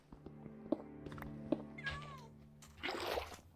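A cat in the Minecraft video game gives a short rising-falling meow mid-way, amid a few soft in-game clicks and thumps, followed by a brief watery splash near the end.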